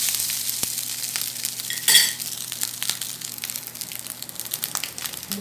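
Leftover rice sizzles steadily as it fries in a pan, with a spatula scraping and stirring through it and one brief louder clatter near the middle; no one speaks.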